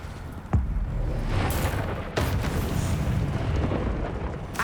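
A spell explosion in the Hogwarts Legacy video game: a sudden loud boom followed by a sustained roaring, rumbling blast, with a second burst partway through, all dense and continuous.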